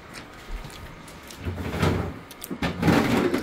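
A refrigerator's yogurt drawer slides open with a short scraping rattle, followed by plastic knocks and rustling of groceries being put away, close by.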